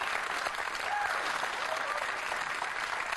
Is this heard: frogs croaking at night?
no